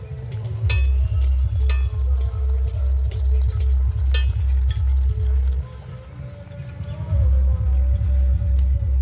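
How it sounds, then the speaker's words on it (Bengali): Pea-stuffed kachori fry in a karahi of hot oil in a village Bengal kitchen, a steady sizzle under a regular rhythmic thumping that pauses briefly midway, with occasional clinks of a utensil. "একটু লাল করে ভাজবো।"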